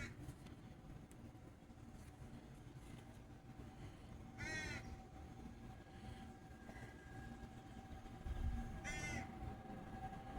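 A bird calling from up in a tree gives two harsh, cawing calls about four seconds apart, each under a second long, over a steady low outdoor rumble, with no one speaking.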